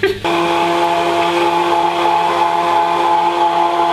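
A Kenwood Wizard hand blender runs on setting one, starting with a brief clunk and then holding a steady, close whirring motor whine with a raspy edge, loud and unbroken.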